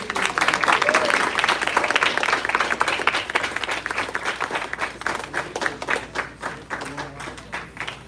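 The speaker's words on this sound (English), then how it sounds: "Let's give a round of applause to Neil and Ruby." An audience at a graduation ceremony claps in a sustained round of applause, dense at first and gradually thinning, with a voice briefly audible over it.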